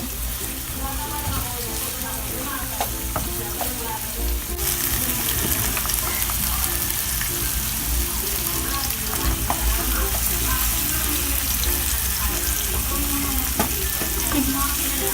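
Tomato goes into a hot pan already cooking garlic, and a loud, dense sizzle fills the stretch, swelling as the tomato lands and then holding as a steady crackling hiss with occasional stirring scrapes.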